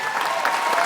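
Crowd applause at a summer charity event in Miami: a short burst of dense, even clapping at close, steady loudness with no pauses.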